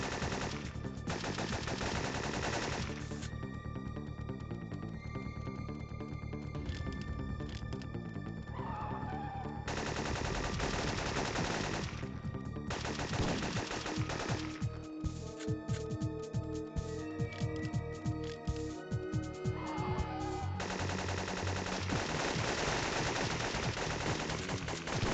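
Repeated gunfire in the video game Syphon Filter 2. Rapid automatic bursts rattle over a loud, busy game soundtrack, stopping and starting in long stretches, with no talk.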